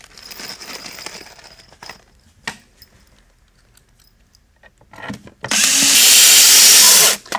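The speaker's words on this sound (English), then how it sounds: "we're going to screw that first slide down" A power drill drives screws into an equalizer slide on a pedestal base table, with soft handling noises at first and then one loud, steady whirring run near the end.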